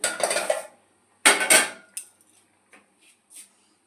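Cooked pointed gourd peels poured from a pan into a mixer jar, with a few short metallic scraping clatters separated by quiet pauses, close and clear.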